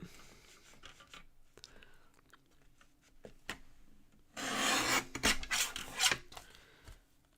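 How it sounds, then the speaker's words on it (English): Craft material being trimmed close to a 7-inch edge during a live craft session: soft scattered rasps and rubs, then a louder, denser scraping burst in the middle of the stretch, close and alone. "I'm going to trim this as close as I can to this."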